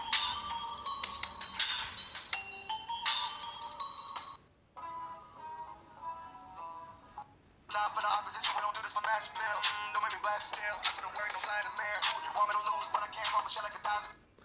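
Music plays through a Lenovo Tab3 8 Plus tablet speaker, bright and thin, breaking off briefly into a quieter tune before the full song resumes.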